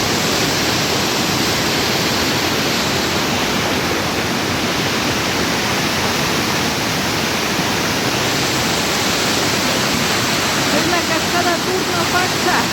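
The Turno Fakcha waterfall on the Oyacachi river roars at full force, a loud, dense, unbroken rush of falling water that holds steady for the whole stretch.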